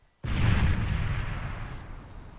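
A grenade going off in a competitive first-person shooter, one sudden loud blast that cuts in from near silence and rolls off into a decaying rumble over about two seconds.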